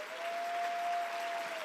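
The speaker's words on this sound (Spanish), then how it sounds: "dale fuerte el aplauso al Señor" Church congregation applauding during a service, a steady wash of clapping with a faint sustained tone running underneath, brief and fairly even in level.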